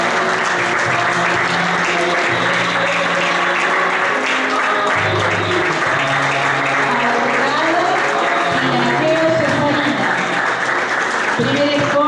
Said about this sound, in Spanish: con un caluroso aplauso a nuestra bandera de ceremonia